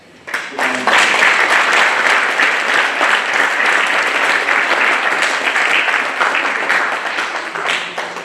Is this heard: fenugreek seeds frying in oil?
no